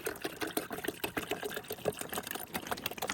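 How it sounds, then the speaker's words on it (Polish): Mineral water is poured from a container into small plastic rabbit drinkers, making a faint, uneven trickling and splashing with light clicks and knocks. "Więc do każdego poidła nalejemy, no, tak myślę, po pół zbiorniczkę."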